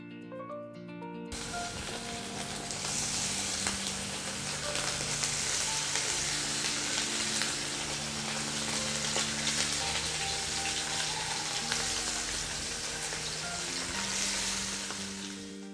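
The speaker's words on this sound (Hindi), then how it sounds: "कम तेल रे माछ को फ्राई कर दउछि।" Small fish fry in a little oil with a dense, even sizzle that starts abruptly after a brief quiet moment and then holds steady and close for the rest of the time.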